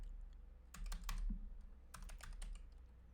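Quick bursts of typing on a computer keyboard, close and fairly quiet, arriving in two short flurries of clicking keys with a pause between them; no one talks.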